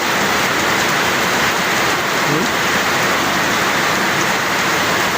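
Heavy monsoon rain in the Philippines pours down steadily, a dense, constant hiss of drops drumming on surfaces close by, with no break throughout.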